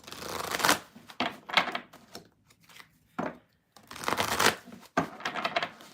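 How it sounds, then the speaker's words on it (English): Tarot cards being shuffled in irregular riffling bursts with brief pauses between them, close and fairly quiet, no talking. "Thank you for being patient while I shuffle."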